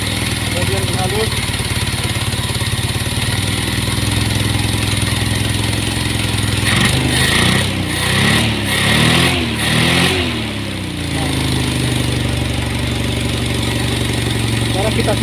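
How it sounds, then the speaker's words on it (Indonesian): A car engine with its distributor timing set correctly idles smoothly and steadily, a low, even hum with no backfires, briefly interrupted midway by a few handling knocks before settling back into the same idle. "ketika pemasangan distributornya tepat, maka mesin akan hidup dengan normal dan tidak ada terjadi ledakan"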